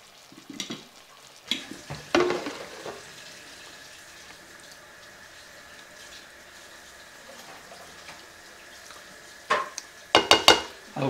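Browned hamburger meat in a pan, stirred with a utensil: loud scraping bursts at the start and again near the end, with a quiet, steady sizzle in between and no talking.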